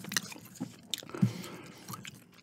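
Gum being chewed close to the mic, a few soft wet smacks and squishy bites spread unevenly over a couple of seconds, with light rustling in between.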